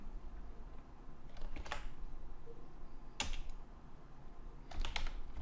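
Soft keyboard typing while entering PHP form-validation code, a few short bursts of clicky keystrokes spaced across the stretch against a steady low room hum.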